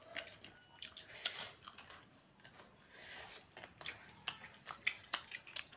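Someone at a mukbang meal of meat, noodles and eggs chews crunchy food close to the microphone, in quiet, irregular bites and crunches with short pauses between them.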